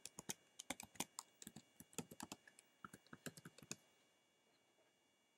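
Login password being typed on a computer keyboard: a quick run of crisp, close key clicks in irregular bursts, then a short pause and one final click, with no voices.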